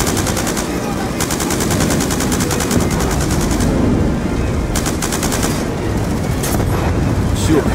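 Loud bursts of rapid automatic gunfire in Call of Duty Black Ops 2, several rattling volleys separated by brief pauses over a dense battle din.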